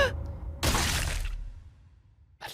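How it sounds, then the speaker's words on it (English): A single sharp smashing impact from a Blue Lock anime sound effect, wet and crunchy like a watermelon breaking. It bursts out loudly, then fades into near silence. "It's like a watermelon smashing."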